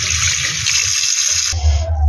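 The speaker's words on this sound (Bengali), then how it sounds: "এটাকে ভালো করে পরিষ্কার করে নিয়ে ধুয়ে নি।" Fish being washed by hand under running water, a steady close splashing gush from a tap that shifts to a heavier, fuller pour near the end.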